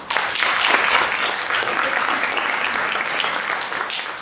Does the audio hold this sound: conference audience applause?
yes